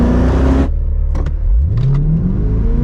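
A loud engine of a 1968 C3 Chevrolet Corvette roars, cuts out briefly, then climbs steeply in pitch as the car accelerates at full throttle, the revs rising over a couple of seconds.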